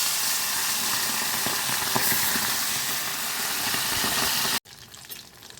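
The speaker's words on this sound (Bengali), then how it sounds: "তেল গরম হয়ে গেছে, এবার মাছ দিচ্ছি।" Pomfret fish frying in hot oil in a home kitchen, a steady loud broadband sizzle running continuously for several seconds before cutting off abruptly, followed by fainter clatter.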